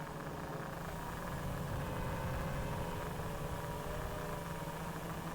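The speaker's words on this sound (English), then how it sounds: "So I've left the engines on" Aircraft engines keep running on the ground after a landing on sand dunes, a steady, close, droning hum with constant vibration and no voices.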